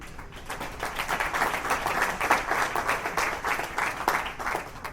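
An audience at an awards ceremony applauds Dr. Leonard Friedman, a steady wash of many hands clapping that swells slightly and holds throughout at a moderate level.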